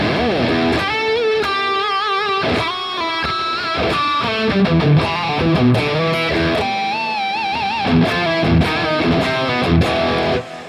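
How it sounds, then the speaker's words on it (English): Loud, heavily distorted electric guitar playing a sustained melodic lead, washed in reverb and trailing delay echoes, with no voices. "You take that tone, you put a bit of reverb and delay on it, you crank the gains up"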